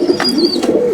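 Pigeons cooing close by, a soft low rolling coo that rises and falls over a brief moment, with a faint thin chirp above it.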